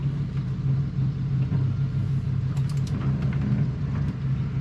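A 1980 Chevy Blazer's engine idling, a steady low rumble that stays even and close throughout, with a few faint higher ticks over it and no speech.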